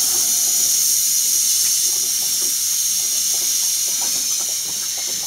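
An HHO glass-melting torch on a 240V supply gives off a loud, steady broadband hiss that runs without a break and eases slightly toward the end as the torch is shut off.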